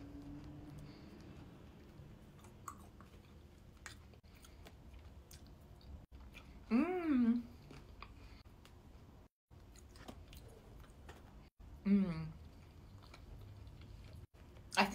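Close, soft chewing of Bircher muesli with raisins, steady mouth sounds through the clip with a couple of brief louder bursts, and no talking.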